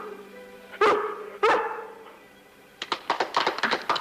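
A dog lets out two loud, separate barks, then after a short pause breaks into a quick run of sharper, higher yaps and yips, close and clear with no talking.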